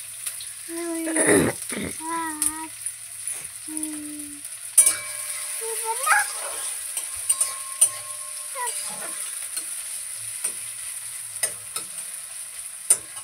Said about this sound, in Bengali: কাঁচা লঙ্কা, আদা কুচানো, রসুন কুচানো, পেঁয়াজ কুচানো, সব দিয়ে একটু কষাবো